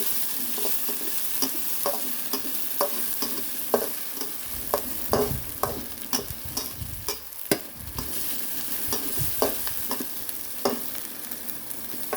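Hot oil sizzles in a pan while a utensil stirs and scrapes briskly for an eggplant dish, giving a run of sharp, close clinks over a continuous frying hiss with no talking.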